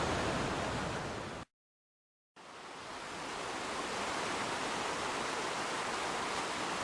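Roaring waterfall in Ida-Virumaa, Estonia: a steady, dense broadband rush of falling water, loud and continuous, with a brief cut to silence early on before the roar swells back in.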